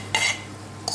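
A utensil stirs a spiced mixture with red chili powder in a bowl or pan in a home kitchen, heard as two short scraping bursts separated by a quiet pause, with a low steady hum underneath.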